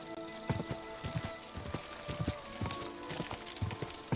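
A horse runs in Kingdom Come: Deliverance 2, its hooves pounding in a quick, rolling rhythm close by, set against a steady low drone of in-game ambience.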